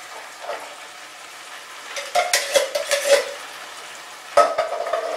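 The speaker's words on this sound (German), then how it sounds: "So, jetzt erst einmal schon umrühren" A spoon stirs chili con carne with tomatoes in a cooking pot, giving a few close scraping, sloshing strokes in two bursts over a soft steady simmer.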